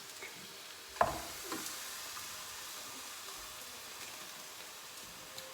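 Beyond Burger patties cook in a covered pan over medium-low heat, giving a steady soft sizzle and crackle with one sharper clatter near the start.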